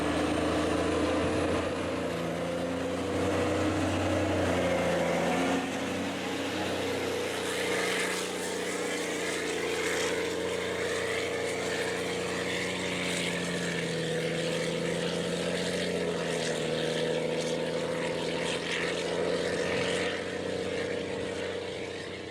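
A Hagie STS16 self-propelled sprayer with a 365 horsepower 8.9 liter Cummins engine works through tall corn, a loud, steady, droning engine hum with a fan-like whoosh that holds throughout and shifts pitch slightly as it moves.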